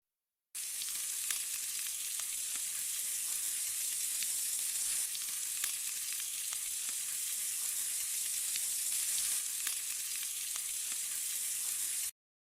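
Cartoon sound effect of meat cooking in a pan: a steady, even hiss of sizzling that starts abruptly and stops abruptly, with no talking over it.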